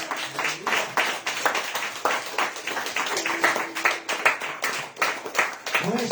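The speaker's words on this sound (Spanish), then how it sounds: "El aplauso al Señor." A church congregation claps together during a Spanish-language sermon, a fairly close, rhythmic burst of hand claps mixed with voices and faint tones throughout.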